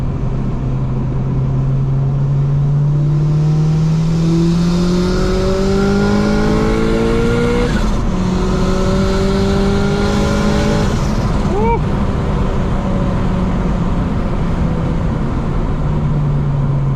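A 350 hp big-turbo Honda Civic Coupe accelerates hard through the gears on a road in Greece, engine pitch climbing steadily then dropping at each shift, loud and close from inside the cabin.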